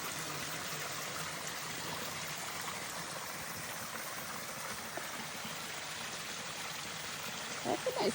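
Small stream on the Appalachian Trail, a steady broadband rush of flowing water running evenly throughout, with a brief closer splash or rustle near the end.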